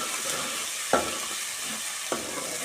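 Ginger-chilli paste frying in a pan for a chicken curry, a soft steady sizzle broken by two distinct scrapes of a stirring spoon, close and quiet, no voices.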